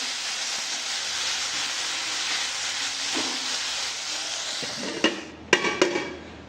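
Malabar spinach greens cook in a pan with a steady close steaming hiss, then a few sharp scraping knocks of stirring near the end.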